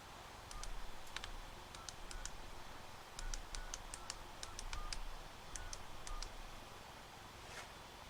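Field telephone taken off hook on an SB-22 switchboard, with a faint hissing line and a series of short, sharp dialing clicks and tones in quick bursts.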